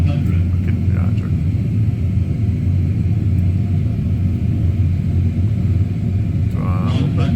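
An airliner lands in a flight simulator game, with a steady, loud low engine rumble throughout. Brief electronic cockpit tones come in near the end.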